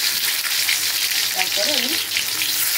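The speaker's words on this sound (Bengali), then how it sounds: "তেলটা গরম হয়ে গেছে, এখন আমি আলুগুলো ভালো করে লাল লাল করে ভেজে নেব।" Potatoes coated with salt and turmeric fry in hot oil in a wok, giving a steady, close sizzle throughout while a voice speaks briefly over it.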